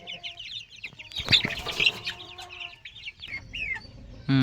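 Chickens cluck and squawk close by on a poultry farm in a busy cluster of calls, with a loud flurry in the middle and scattered farmyard noises.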